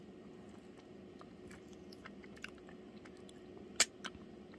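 Slow, quiet chewing of food at close range, soft and steady over a low background hum, with a couple of sharper crunchy bites near the end and no talking.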